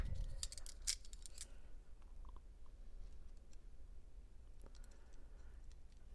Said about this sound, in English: Scrape it off in case there's any buildup in there to prevent it from making contact.